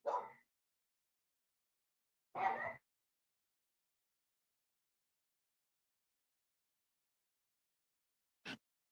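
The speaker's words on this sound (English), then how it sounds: "Fucking dogs," Two separate dog barks ring out a couple of seconds apart, followed by a brief sharp yip, each short and distinct against otherwise total silence, sounding moderately distant.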